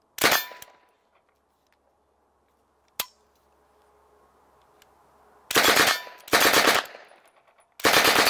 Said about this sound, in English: Put the magazine in until it clicks, and you're ready to fire.